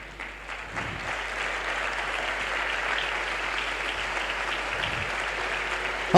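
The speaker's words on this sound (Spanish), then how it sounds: "Aplauda al Señor, si aplauda" A church congregation applauds during a worship service, steady sustained clapping from many hands filling the room, rising quickly and holding evenly throughout.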